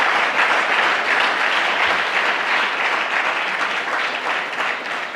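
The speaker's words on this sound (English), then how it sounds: "you should applaud" Dense, steady applause from a large audience at a formal ceremony marking South Africa's joining of Afreximbank, sustained and loud throughout without pause.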